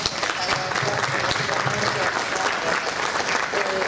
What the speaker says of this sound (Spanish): Bueno, un aplauso para Iván.